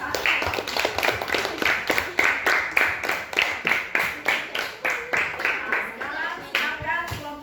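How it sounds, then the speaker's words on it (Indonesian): Classroom audience claps for a student group, a rhythmic, fairly close run of hand claps with a steady beat, some voices faintly mixed in. "berikan tepuk tangan untuk kelompok 1"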